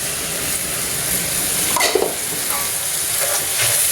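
Tomato and green chilli paste frying with keema in a pan while being stirred, a steady close sizzle with a few scraping stir strokes throughout.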